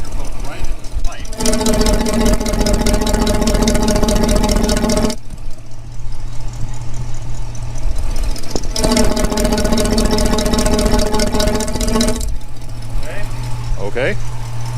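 A 1965 Ford Mustang engine with an exhaust leak idles and revs, captured from a microphone pushed inside the exhaust pipe, giving loud, harsh, droning bursts of roughly four seconds separated by quieter idling gaps.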